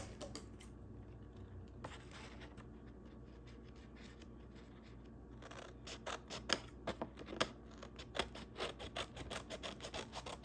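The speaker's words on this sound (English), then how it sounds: "This one I'm actually cutting some cardstock" Scissors snip through cardstock at close range, a quiet rustling stretch followed by a run of sharp, rhythmic cutting clicks that grow louder toward the end, with no voices.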